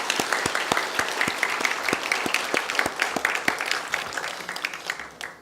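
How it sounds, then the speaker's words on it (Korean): A church congregation applauds in thanks to a visiting pastor, a steady patter of many hands clapping at moderate level, with a few sharp single claps standing out, tapering off toward the end. "감사의 박수 부탁드리겠습니다"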